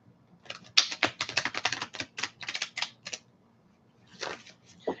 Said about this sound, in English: And I just shuffle the cards because it's just something I do.